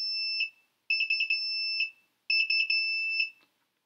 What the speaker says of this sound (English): And that canceled the alarm.